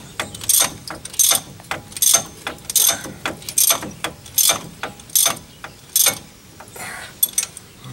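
A ratchet wrench tightens hub bolts on a 1997 Dodge Ram 1500 front axle during a U-joint replacement, clicking in about ten steady, evenly spaced bursts, close to the microphone.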